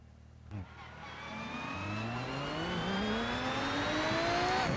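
An engine in the RennSport racing game starts up on its own and then revs steadily higher, its pitch rising over a few seconds into a loud, sustained drone.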